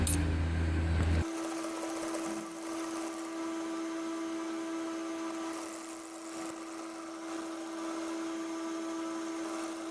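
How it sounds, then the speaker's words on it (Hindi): A sewing machine runs steadily while stitching the bottom hem of a ladies' trouser, starting with a heavier motor burst before settling into a continuous close, even hum. "अब हम इसकी नाली की सिलाई लगाएंगे।"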